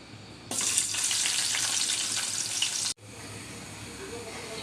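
Sliced onion for a tempering hits hot oil for a chicken curry and bursts into a loud, hissing sizzle for about two seconds. It then drops abruptly to a quieter, steady crackle of frying.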